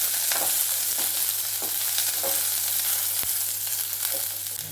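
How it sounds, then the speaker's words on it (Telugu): Onions sizzle steadily in hot oil with cumin, crushed garlic and curry leaves for a Telugu sour-spicy greens curry, a dense continuous fry with a few light stirring knocks, close and fairly loud. "ఆనియన్స్ని బాగా వేపుకుందాం."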